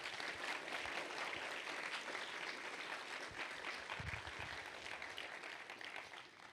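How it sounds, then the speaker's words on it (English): Steady audience applause at a Rust Forge programming conference in Wellington, New Zealand, a dense wash of many hands clapping that holds strong for several seconds before starting to fade near the end. "So let's give them a big round of applause."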